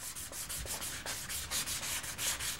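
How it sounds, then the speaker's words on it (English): Repeated rhythmic sanding strokes on wood, a steady back-and-forth rasp close by with no voices. "This walnut piece I've just finished, or almost finished, I'm still sanding it a bit"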